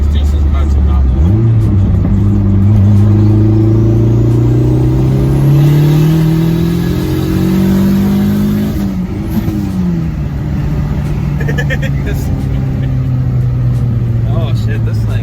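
Turbocharged SRT-4 Dodge Neon accelerating hard from inside the car, the engine note climbing loudly through the gears with a shift near nine seconds, while people talk over it.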